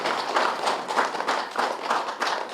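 An audience at a pyramid inauguration claps for Patri Sir in steady, rhythmic, fairly close applause that continues without a break.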